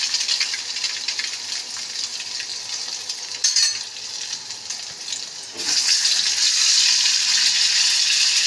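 Halved boiled eggs frying in oil in a pan, a steady close sizzle with bursts of crackling and stirring scrapes, swelling louder over the last few seconds.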